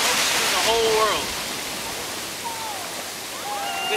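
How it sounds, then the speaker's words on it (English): Pacific Ocean surf at a Santa Cruz state beach rolls in as a broad, steady wash of noise, swelling slightly at the start and end, with faint voice-like calls drifting over it. "Here we've got the Pacific Ocean."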